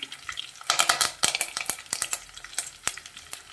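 Garlic, dry red chillies and curry leaves frying in hot oil in a pan for a Telugu cucumber dal, a close, steady sizzle broken by sharp crackles and a few stirring clinks.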